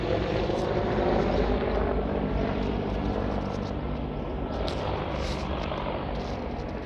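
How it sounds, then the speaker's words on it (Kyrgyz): A helicopter drones steadily over a Moscow used-car market, a broad continuous rotor and engine roar that eases slightly as it flies away, with no speech. "Вертолет училип кетет"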